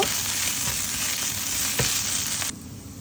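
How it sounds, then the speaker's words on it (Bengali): Taki fish frying in hot oil gives a constant close hiss with a single scrape partway through, then the sizzle drops off abruptly near the end. "তো দেখতেই পাচ্ছেন আমি কীভাবে ভেজে নিচ্ছি।"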